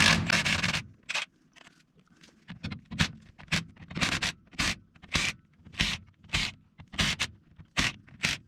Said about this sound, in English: we have the carbide scraper. That's going to come in handy again.